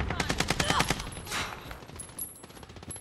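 An AK rifle fires rapid automatic bursts in a military shooter video game, loud and rhythmic at first, then thinning into scattered distant shots, with some voice chatter mixed in.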